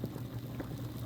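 Rice boils in a pot on the stove with a soft, continuous bubbling and gurgling, heard briefly and fairly quietly with no talking.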